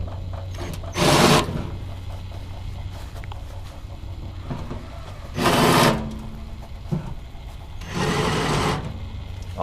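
A drill bit, swapped for a larger size, chases burrs off a drilled hole during a custom shelf install, running in three short whirring bursts of about a second each over a steady low background hum.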